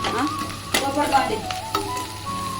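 Dried red chilies, cumin, ginger, garlic, masala and salt stirred and frying in hot oil for a Karnataka-style masala oggani, with a steady close sizzle broken by sharp scraping clatters of the spatula.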